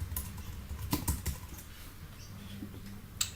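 Keys clatter on a computer keyboard in a quiet room, a short, faint burst of irregular clicks with a sharper tap near the end.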